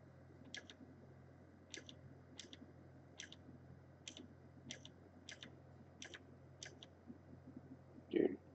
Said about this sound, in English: you probably hear a lot of clicking from my keypad, or keyboard, I mean